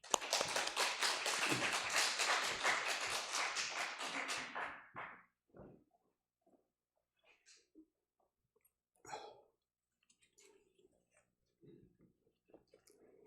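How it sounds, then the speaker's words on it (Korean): A church congregation applauds to welcome a visiting pastor, a full burst of clapping lasting a few seconds before dying away into a quiet room with scattered small sounds. "우리 큰 박수로 우리 환영하십시다."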